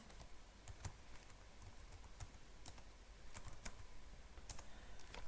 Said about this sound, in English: you can type into it and then hit Control D to say that's the end of the input